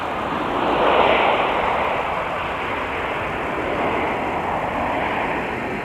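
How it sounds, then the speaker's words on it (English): A CRJ regional jet at Minneapolis–Saint Paul airport in winter gives a steady, roaring engine rush that swells slightly and then holds, fairly close and alone with no voices. "Another CRJ."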